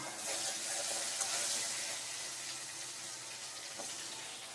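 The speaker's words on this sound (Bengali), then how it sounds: "আলু কাটা একটু ভেজে নেব" Cut potatoes frying in hot oil in a pan, a steady broadband sizzle and crackle that holds fairly even throughout with a few brief sharper pops.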